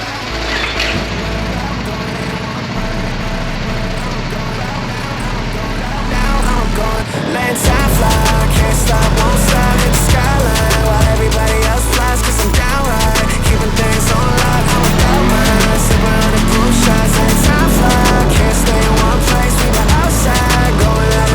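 Yamaha R3 motorcycle ridden on the road: a low idle for several seconds, then the engine revs up into a loud, sustained drone with rising and falling pitch as the bike accelerates and shifts.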